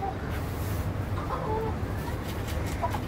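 Black Australorp chickens on a farm during intense summer heat give scattered, soft clucks and calls over a steady, noisy background that runs through the whole stretch.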